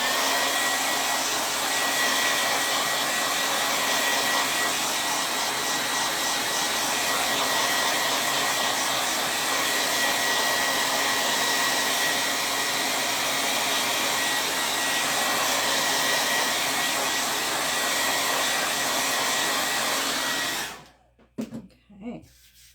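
A hair dryer blows continuously at close range for about twenty seconds, drying a fresh coat of paint on a lazy susan, then switches off.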